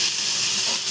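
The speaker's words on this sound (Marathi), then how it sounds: "कढाईमध्ये मिरच्या आणि लसूण टाकून घेतलेलं आहे बघा." Chillies and garlic sizzle in a hot kadhai with a steady, loud, bright hiss that stays even from start to finish.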